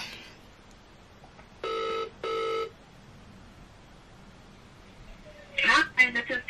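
Outgoing call ringback tone on a telephone: two short, even buzzing rings close together, followed after a pause by a quiet gap and then a voice speaking near the end.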